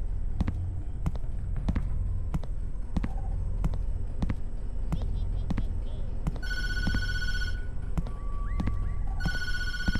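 Phone ringing in the horror video game Tattletail: repeated electronic bell trills in two bursts over steady rhythmic thumps and background ambience.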